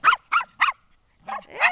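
Three quick, evenly spaced barks from a nearby dog, a short pause, then two more yelping barks; no speech.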